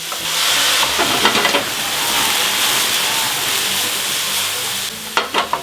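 Mushrooms sweating in a hot frying pan with cognac added, giving a steady close hiss of frying with brief stirring clatters and a few scrapes near the end, as part of a cognac steak sauce served with homemade Parisienne potatoes.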